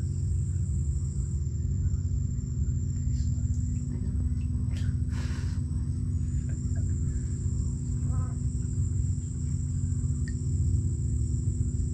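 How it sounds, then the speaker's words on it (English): Constant high-pitched insect chirping over a low rumbling background, heard from a kayak around a mangrove island in Key West, Florida, steady and unbroken, with a few faint distant sounds mixed in. "Of course, we hear some bugs."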